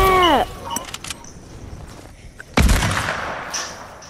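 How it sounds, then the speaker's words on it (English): Sniper rifle shots in the video game Fortnite, two sharp booming reports a couple of seconds apart, the second louder with a trailing echo, amid faint in-game clatter. "Bro, now I'm getting sniped at."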